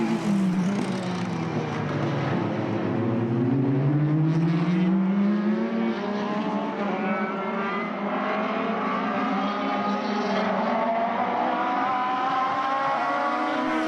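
Dallara Formula racing cars lapping Mondello circuit in a Formula BOSS Ireland race, engines droning steadily with rising and falling pitch through shifts, loud and continuous with no voices.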